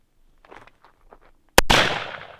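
A single pistol-caliber round is fired at a homemade shield built from garbage, one sharp loud crack after a few faint footsteps and shuffles, with a decaying tail.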